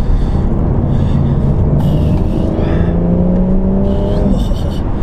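A BMW M140i engine revs hard as the driver drops through gears, loud and close from inside the car, the pitch rising and falling in sweeps with a few quick blips between shifts.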